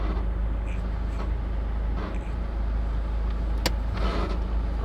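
A 2010 Toyota Land Cruiser Prado turbo-diesel automatic's engine hums steadily at close range as it moves slowly, with a few faint clicks and a brief sharp squeak from worn brake pads scraping.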